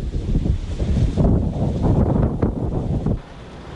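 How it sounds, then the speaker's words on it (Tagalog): Strong gusts from Typhoon Dindo roar and buffet across the microphone in a dense, rushing wash that surges and eases, with no voices. "Ang mga puno halos tumabingi sa lakas ng hangin."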